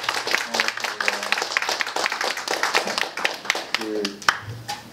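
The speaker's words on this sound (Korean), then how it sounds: "뜨거운 박수 부탁드리겠습니다" Audience applause at a leadership academy lecture, a dense patter of many hands clapping with sharp individual claps standing out, with voices mixed in under it.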